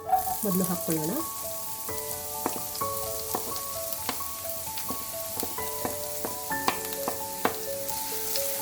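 Chopped green chillies and onion fry in a pan with a soft, steady sizzle and scattered crackles. Sharp clinks of stirring and tonal ringing sounds punctuate the frying through the whole stretch.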